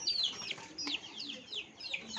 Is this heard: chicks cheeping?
yes